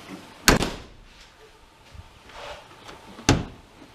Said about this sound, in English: pop the hatch with the latch right now and see what happens